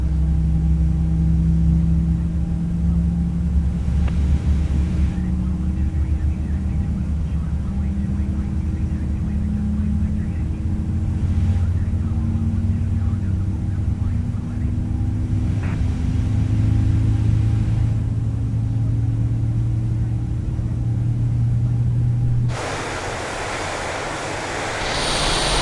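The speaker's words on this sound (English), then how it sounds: "let's go ahead and start that engine up" Airbus A320 engine in Microsoft Flight Simulator 2020 spooling up from start, a steady low rumble and whine rising gradually in pitch for over twenty seconds before an abrupt cut to broadband hiss.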